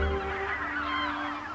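Migrating geese honk steadily along a river floodplain, a continuous overlapping chorus of calls at moderate distance with no talking.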